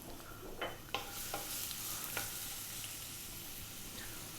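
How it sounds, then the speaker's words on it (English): Garlic and ginger sizzle in a wok of sunflower oil on high heat, a steady hiss with a few sharp scraping stirs and clinks near the start, no talking. "I've got the heat on high. I've got in there some sunflower oil. We're going to drop in our garlic and ginger."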